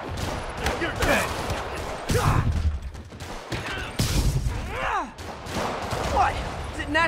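Rockets fired at Spider-Man in Marvel's Spider-Man Remastered, a chaotic run of blasts and whooshing streaks with rapid gunfire, loud and close, with voices speaking over the fight.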